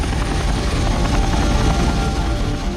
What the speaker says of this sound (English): From an aircraft carrier in the Arabian Sea, the helicopters flew more than 500 miles into Iran